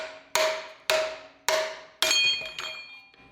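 Four sharp metallic clangs ring out at an even pace, each decaying with a bright ringing tail, as a hammering tool strikes a seized part on a motor left sitting for ten years, close and loud with no talk.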